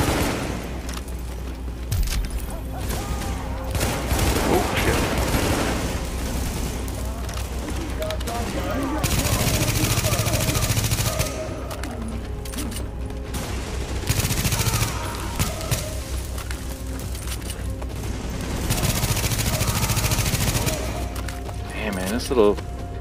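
A fast-firing gun in The Division video game lets off repeated dense bursts of rapid gunfire, with loud stretches breaking in and out between quieter gaps, and voices talking over parts of it.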